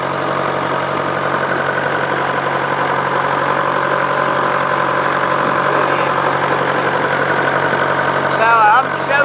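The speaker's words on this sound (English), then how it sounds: "give the tractor a run" A 1953 Nuffield DM4 tractor engine runs at a steady idle, a continuous low mechanical drone with a faint knocking rhythm, loud and close throughout with no pauses.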